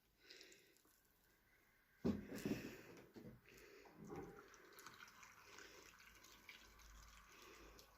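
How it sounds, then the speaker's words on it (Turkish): Hot water is poured into a glass jar while making a pickle recipe, a soft splashing trickle that swells into a louder gush partway through and then runs on steadily, close by, with no talking. "Bu şekilde sıcak suyu döküyoruz."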